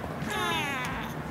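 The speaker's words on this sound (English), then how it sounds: "There's these random cats on the mountain," A cat on a mountain hiking trail along the Cinque Terre coast gives a single drawn-out meow, clear and close, rising then falling over about a second.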